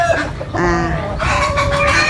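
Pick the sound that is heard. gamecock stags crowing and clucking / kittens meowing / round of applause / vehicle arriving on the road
gamecock stags crowing and clucking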